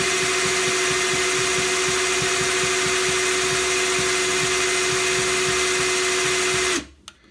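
An ENKHO cordless rotary hammer spins freely at a steady, loud whine with a fast pulsing rhythm underneath, running alone for several seconds before cutting off abruptly.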